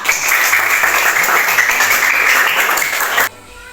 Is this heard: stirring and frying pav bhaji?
no